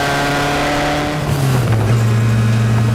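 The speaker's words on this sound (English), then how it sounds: "The 1928 Bugatti, Type 37A." A 1928 Bugatti Type 37A racing car engine drones loudly and steadily nearby, its pitch dipping slightly as it changes speed, with no voices.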